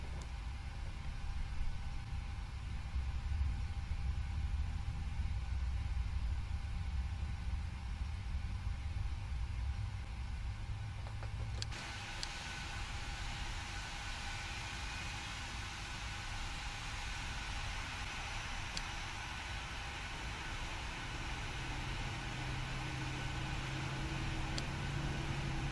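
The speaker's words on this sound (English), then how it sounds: "Right, okay, we can start the engines," Boeing 737-800 engines spooling up in the Prepar3D flight simulator, a steady low rumble and whine that shifts in tone partway through as the second engine comes on, continuous with no talk.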